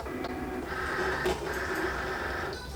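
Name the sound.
Cricut Explore Air cutting machine loading mat under rollers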